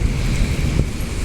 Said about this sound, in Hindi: ये देखो यहाँ पे हवा इतनी तेज थी, अभी पूरी हवा की आवाज़ आ रही थी साए साए करके